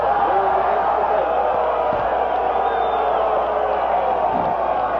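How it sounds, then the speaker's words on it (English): A football crowd at a 1989 NAIA national championship game jeers with a sustained, loud, dense roar of voices that holds steady throughout, with no distinct individual calls. "kind of a Bronx cheer from the La Crosse fans below us"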